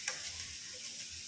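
Bean sprouts with tofu and chicken being stirred in a frying pan, a faint, steady sizzle with light scraping and small ticking contacts, quiet and close, with no talk.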